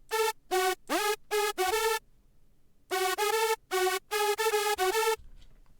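A layered hardstyle lead synth patch in FL Studio: bright, harmonic-rich stabs played in two rhythmic phrases with a gap between, one note bending in pitch, loud and alone.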